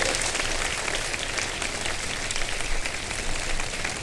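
Dense, steady applause from a large audience, continuous clapping that fills the whole stretch without voices.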